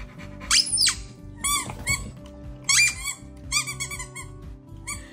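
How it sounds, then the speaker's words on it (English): A dog toy squeaker is squeezed in repeated bursts, sharp high squeaks coming in uneven pairs and clusters, loud and close, with a steady low hum underneath. "I want you to see his face when I squeak a squeaker."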